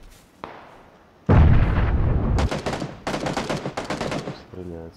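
Gunfire in the battle royale game PUBG on the Miramar map: a sharp shot, then a loud sustained burst and several rapid volleys of automatic fire, all fairly close, with no talk.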